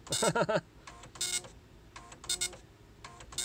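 A Star Micronics NX-15 wide-format 9-pin dot matrix printer prints a test page, giving short bursts of buzzing, rasping print-head passes separated by brief pauses, fairly close and moderately loud.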